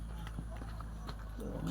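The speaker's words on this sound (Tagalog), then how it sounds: "May kabayo pa nga to." Horse hooves clip-clopping at a mountain viewpoint near Ormoc City, Leyte, a few soft irregular steps heard faintly beneath people talking nearby.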